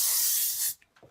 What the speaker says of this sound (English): I'm going to seal it with hairspray